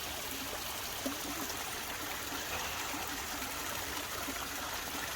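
A stream runs steadily at a water source on the Appalachian Trail after rain, its broad continuous rush and trickle close by and unbroken, with no voices over it.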